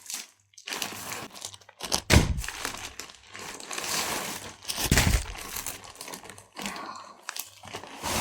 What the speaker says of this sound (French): Ils ont mis du scotch partout, c'est impossible à enlever